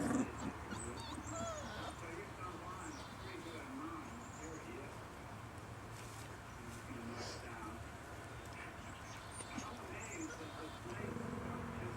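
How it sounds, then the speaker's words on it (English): Four-week-old puppies outdoors give faint whimpers, yips and small barks scattered through a quiet backdrop with occasional birds, while people speak softly nearby. "Oh, Simpson's puppy took over the hole."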